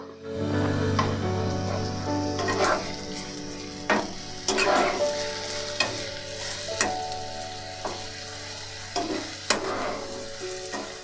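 Softened, browned onions with a spoonful of ginger-garlic paste sizzle steadily in a pan while a spoon scrapes and stirs in repeated knocks, close and clear.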